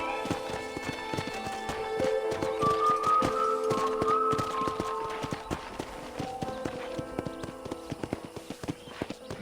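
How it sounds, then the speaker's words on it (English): Horse hooves clip-clopping in a steady walking rhythm on a ranch in Red Dead Redemption, close and clear over a bed of ambient game music, with a brief whinny. "I picked out a fine horse for you."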